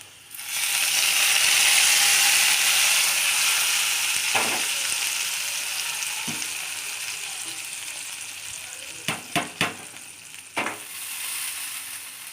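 Ingredients for noodle payasam sizzling in a hot pan, a loud steady frying hiss with a few sharp clinks and scrapes of a spoon near the end, close by with no talking.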